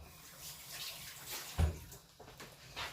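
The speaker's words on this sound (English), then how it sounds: "I'm going to add a little bit more water." Water is poured into gravy in a pan, a brief, faint splash and trickle with a soft thud partway through, quiet and without talk.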